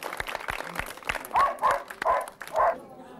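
Several dogs bark in short separate bursts at an animal protection society event in Locarno, with a busy, roomy background around them.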